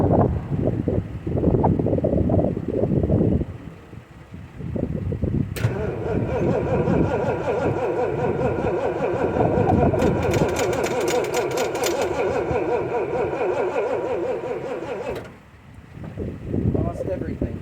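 A 1979 Ford F150 Supercab engine cranks over with a loud, sustained whirring starter drone for several seconds, close to the microphone, then cuts off abruptly, with rough bursts and wind noise before it.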